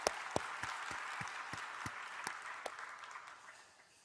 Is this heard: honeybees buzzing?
no